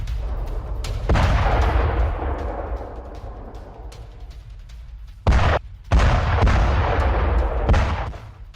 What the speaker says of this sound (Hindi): रूस ने KH-38 मिसाइल से अटैक किया है।